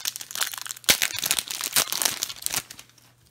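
A trading card booster pack wrapper being torn open, with close, loud crinkling and sharp tearing crackles in quick bursts that fade at the end, no one talking.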